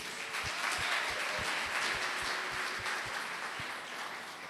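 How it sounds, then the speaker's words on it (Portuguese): A church congregation applauds for Jesus during a worship service, a dense, steady wash of many hands clapping that fills the room, with a few sharper individual claps punctuating it at a brisk rhythm. "Vamos aplaudir Jesus."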